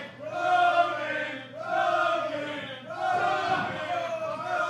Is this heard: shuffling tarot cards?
no